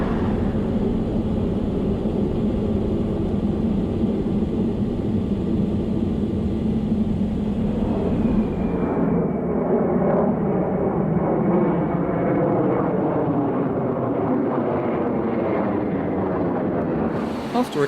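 Concorde supersonic airliner climbing after takeoff, heard from on board: a loud, continuous jet roar fills the whole stretch, with a layered engine drone coming forward as the climb continues.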